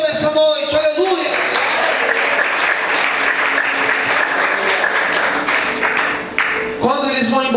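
A church congregation applauds loudly and continuously during a worship service, dense crowd clapping filling the space, with a voice speaking briefly at the start and again at the end.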